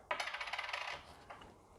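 A silver coin jingles and clinks in rapid, bright metallic rattles, close and quiet, followed by a softer second clink, with no voices.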